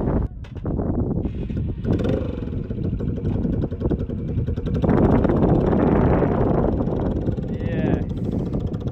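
A custom motorcycle with aftermarket exhausts starting up and revving at a mountain pass in the Alps, a loud rumbling engine that swells into a stronger rev partway through, close by with wind noise and people talking over it.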